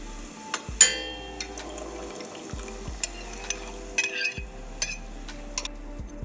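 Beans tipped into hot oil in a pan over lowered heat for bean gorditas: a soft, steady sizzle with a few sharp clatters and stirring knocks, faint and close, with no talk.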